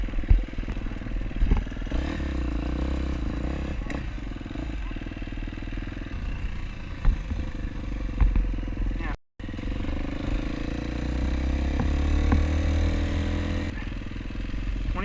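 A dirt bike engine drones steadily and close during a NETRA snow enduro ride, with rattles and clatter over rough ground and brief rider exclamations.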